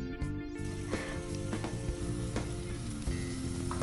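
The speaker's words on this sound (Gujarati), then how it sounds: "લસણ અને ડુંગળી સંતળાય" Garlic and onion sautéing in a small amount of butter give a steady, close sizzle, with occasional sharper crackles and faint stirring scrapes and no talk over it.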